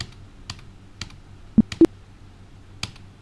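Sharp key presses on a computer keyboard, two prominent clicks close together for the Enter key among lighter, sparse typing taps, near and otherwise quiet.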